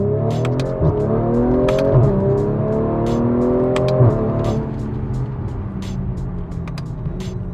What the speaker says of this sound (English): this is actually the first time I'm driving this car with the KW suspension